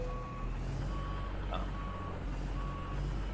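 A semi truck with a trailer reverses, its backup alarm giving four evenly spaced beeps over a loud, steady diesel rumble close by.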